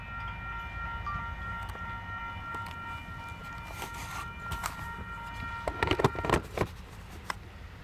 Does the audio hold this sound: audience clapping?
no